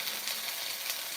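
Chorizo sizzles in a pan over low heat, a close, steady crackling hiss with a soft stir, no voices.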